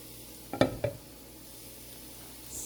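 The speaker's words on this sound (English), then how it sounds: "I'm just going to saute them up until they're nice and Nice and cooked. So I put the carrots in there." Carrots, onions and leeks sautéing in a pan give a quiet, steady sizzle, broken early by two short clattering stirs of a utensil against the pan.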